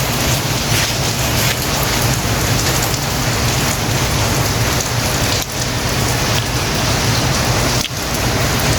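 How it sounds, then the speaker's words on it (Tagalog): Steady, loud rain pours onto surfaces with a dense, continuous hiss and patter that barely changes from start to finish, with no voices. "Ilong ko pa tumama yung ulan, patak."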